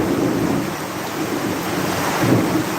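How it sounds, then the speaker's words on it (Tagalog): Steady roar of heavy rain with a low rumble of thunder rolling underneath, continuous and fairly loud throughout. "Kumukulog na."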